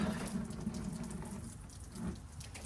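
Water from a tipped-up cooler with no drain on one side, pouring in a steady splashing trickle that swells briefly near the end, close by and with no talk.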